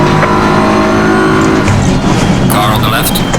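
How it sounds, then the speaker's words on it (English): A race car engine in Assetto Corsa Competizione roars loudly and steadily with shifting tonal whine as revs change, while a voice talks over it throughout. "On this next lap, guys, we'll have a good listen to this engine."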